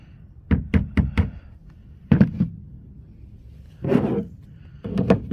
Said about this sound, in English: Set the lid on there.